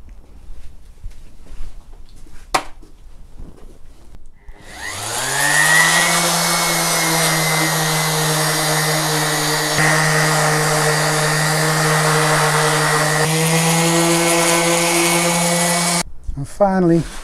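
Random orbital sander fitted with Mirka Abranet mesh sanding discs working on wood for a shaker-style panel door, a steady loud motor whine starting after a few quiet seconds, running continuously and then cutting off near the end.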